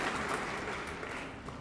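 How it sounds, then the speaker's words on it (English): Banquet guests at a high school academic achievers dinner break into a brief, fairly soft round of applause that tapers slightly as it goes. "that deserves a round of applause"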